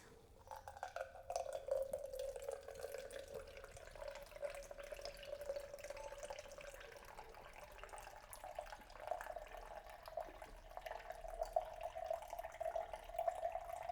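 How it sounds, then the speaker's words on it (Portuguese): Soy sauce poured steadily into a measuring cup, a thin trickling liquid stream running continuously for the length of the clip at low to moderate volume, with no voices. "Você vai colocar uma medida de molho shoyu. Pega um copo medidor aqui"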